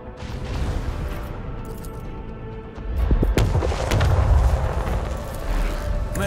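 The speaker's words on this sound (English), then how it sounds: "Macro cannons, open fire!" Heavy booming cannon blasts from a void ship's macro cannons in Warhammer 40,000 Rogue Trader, a swelling barrage of thuds and crashes that grows louder midway over a low rumbling bed.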